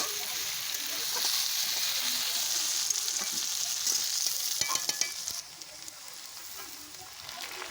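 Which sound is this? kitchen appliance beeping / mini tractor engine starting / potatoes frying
potatoes frying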